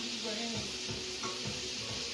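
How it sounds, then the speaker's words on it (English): Peppers and onions sizzle steadily in a hot pan for shrimp and sausage, a continuous bright hiss with soft crackles and a faint stir or two, close and even throughout. "So I add my peppers and onions. I'm going to let them cook down"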